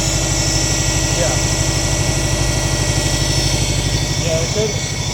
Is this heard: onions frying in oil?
no